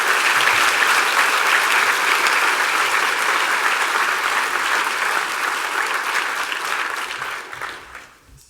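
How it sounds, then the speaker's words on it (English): A full school assembly crowd claps in a dense, continuous round of applause that holds steady, then fades out quickly over the last second. "Let's give one more round of applause for the Wilhite"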